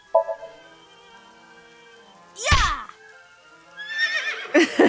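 A horse neighs loudly mid-clip in the video game AI: The Somnium Files, a sharp whinny with a low thump, followed by further rising whinnies and a game music bed underneath.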